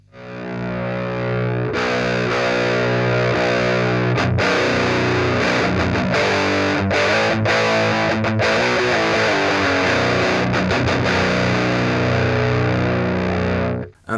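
A loud electric guitar plays sustained, buzzing chords through an overdriven tone from an all-analog stacked practice rig, highs boosted and light distortion, with a few brief breaks and pick attacks between long ringing notes.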